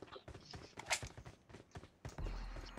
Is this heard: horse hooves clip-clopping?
yes